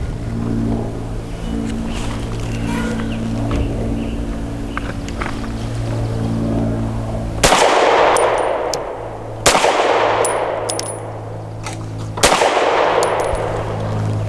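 A Grand Power Q1S pistol firing Hornady Critical Defense Lite 100-grain rounds outdoors: three loud, sharp shots spaced a couple of seconds apart ring out over a steady engine-like rumble, with no talk.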